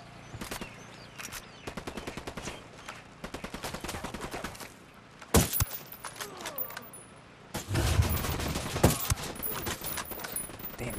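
Rapid automatic gunfire in a Ghost Recon Wildlands firefight, bursts of close shots rattling in quick rhythm, broken by a few louder single blasts and a heavy low rumble near the end.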